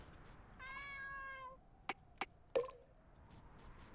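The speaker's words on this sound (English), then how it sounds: "Kitty cat." A cat meows once with a long, clear, drawn-out call inside a video game, followed by a few sharp knocks or footstep-like thuds in a quiet setting.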